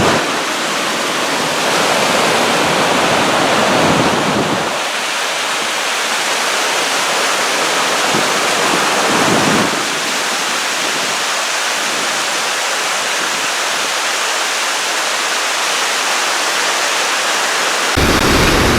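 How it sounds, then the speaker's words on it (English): Waterfall and swift creek water at Glacier National Park in Montana, where a calm lake narrows into fast current below a bridge, roaring steadily as a dense, loud, continuous rush that holds for the whole stretch without talk. "it turns into a waterfall"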